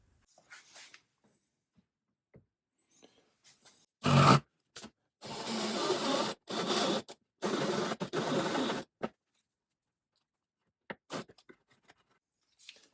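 A screw driven in with a power drill while installing a UTV blinker kit, several short whirring bursts of the drill with pauses between, amid light handling noises.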